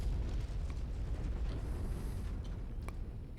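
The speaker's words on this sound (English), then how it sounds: "side torso blew up. Had an ammo explosion." In a mech combat video game, an ammo explosion blows apart a mech's side torso, a deep rumbling blast that rolls on for a few seconds with scattered crackles.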